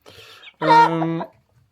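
A hen protests as she is handled and eggs are set under her for brooding: a soft, scratchy fussing, then one loud, strained, drawn-out squawk before she falls quiet.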